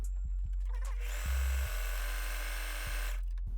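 A Facilita Pro 4432 sewing machine running a bridge stitch, its motor buzzing steadily for about two seconds in one continuous close burst, with light mechanical clicks before and after.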